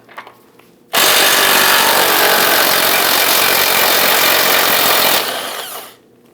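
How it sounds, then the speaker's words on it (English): A power tool, likely an impact gun, spins loose an 18mm ball joint nut on the rear suspension of a 2001-2009 Volvo S60. It gives one loud, steady burst of about four seconds up close, then winds down. "Let's go ahead and loosen and remove this nut."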